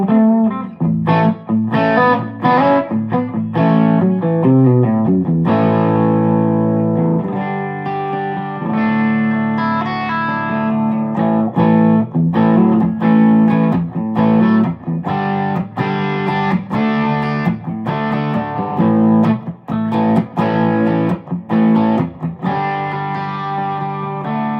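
Electric guitar played through reverb and a Wampler overdrive pedal, strummed chords and picked melodic runs with a thick, driven tone, loud and steady throughout with no talking.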